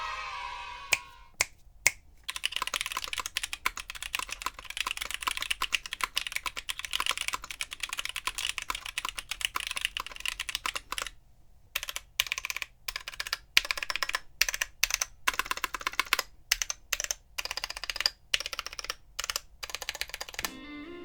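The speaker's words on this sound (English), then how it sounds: "Let's take a listen to these switches stock" Stock KTT Monochrome Onyx tactile switches being typed on, crisp close keystrokes in quick irregular runs broken by a few short pauses, heard alone without talk.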